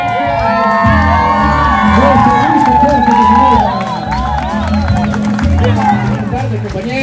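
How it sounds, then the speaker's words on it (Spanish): Crowd of children and adults shouting and cheering together at a street inauguration celebration in Managua, Nicaragua; a loud, sustained roar with whoops and high children's voices, dipping slightly toward the end. "Vamos a ver este grito más, los niños y los adultos."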